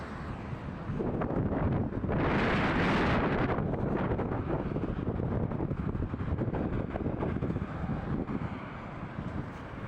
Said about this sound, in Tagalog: May sandstorm bahagya.